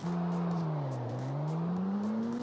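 A steady engine hum of an old Nissan Fairlady in the video game CarX Street that dips slightly in pitch, then climbs gradually as it revs up, sustained and fairly close with no talking.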